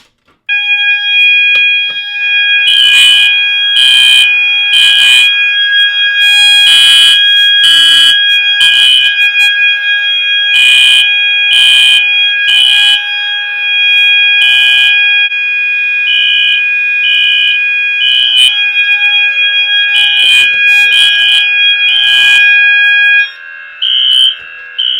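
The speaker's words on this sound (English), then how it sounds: "I'll pull both of them, and we will see both systems in alarm one last time" Two fire alarm systems, set off by pull stations, blare loud electronic tones, rapid pulsing tones layered over a steady high horn, continuing for a long stretch before cutting off near the end.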